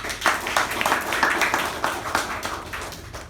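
A Toastmasters meeting audience gives a round of applause, dense clapping that swells quickly and then tapers off gradually, heard close and alone.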